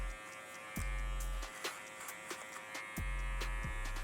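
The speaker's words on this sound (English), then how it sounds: "Using my number 3 guard, lever completely open. Using the comb to help feed it into the clipper." An electric hair clipper fitted with a number 3 guard, lever fully open, buzzes close up while cutting hair during a fade debulk, its hum rising and dipping as a comb feeds hair into the blades.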